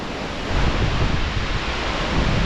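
Yosemite's 1,612-foot single-drop waterfall at peak season pours with a loud, steady broadband roar that swells slightly after the first half second and holds constant, with no voices.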